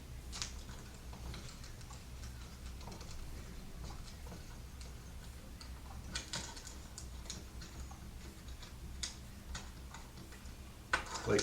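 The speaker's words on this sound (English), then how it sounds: "I'm going to take the small screw and screw that on" Tiny screw being driven into a Victure VD300 video doorbell, faint repeated small ticks and clicks scattered irregularly over a quiet room, with a louder knock at the end.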